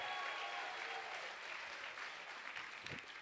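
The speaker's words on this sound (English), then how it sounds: "a big round of applause for everyone who raised a bid card tonight" Steady applause from an audience at a charity gala fundraiser, a dense wash of clapping holding fairly even throughout, moderately distant and somewhat quiet.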